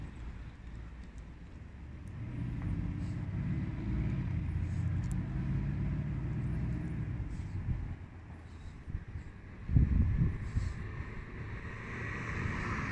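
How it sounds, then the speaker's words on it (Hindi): A car passes by on a quiet street in Riyadh, Saudi Arabia, a moderate engine rumble that swells and fades over several seconds before a second vehicle approaches, with faint bird sounds above. "फिर दूसरा गाड़ी आ गया।"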